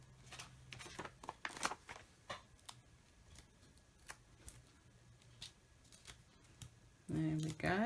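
Scissors trimming the end of a paper card layer for a stamped mat, a series of short crisp snips and paper rustles, with a louder burst of handling near the end.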